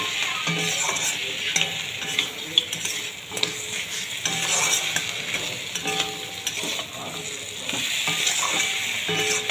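Bhetki fish bones, potato and eggplant stir-fried with spices in a pan for a dry Bengali chorchori: a steady, close sizzle with repeated spatula scrapes and clinks against the pan throughout, no voices.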